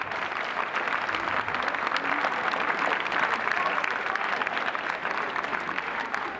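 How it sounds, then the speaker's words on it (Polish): Steady audience applause for prize winners at a soldiers' song festival in Sieradz, a thick, even stream of many hands clapping at moderate volume from start to finish. "Duże brawa."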